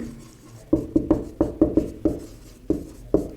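Marker or chalk strokes on a board during a matrix lesson, a series of short sharp scratching taps in irregular rhythm, close and clear with no talk over them.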